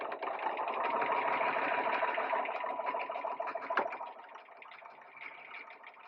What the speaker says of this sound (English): we're going to sew down that strip